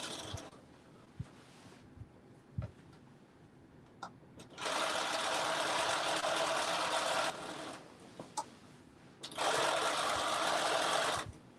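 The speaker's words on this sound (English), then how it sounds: "we are literally sewing the slit" A sewing machine stitches the slit of a tunic in two sustained loud runs of whirring motor hum, separated by quieter pauses with faint clicks and handling noises nearby.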